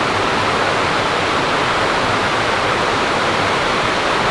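Polblue Falls in Barrington Tops National Park pours down in a loud, close, unbroken roar of rushing water that holds steady throughout.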